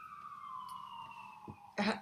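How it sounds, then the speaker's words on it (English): A theater siren sound effect played back from QLab, a steady wailing tone that sweeps slowly downward across the clip at low level, ending with a brief louder burst of noise. "And here's my sirens."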